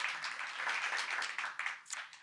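Audience applause at a city and county civic update meeting, a steady wash of many hands clapping for about two seconds, fairly soft and fading slightly at the end with no talk over it.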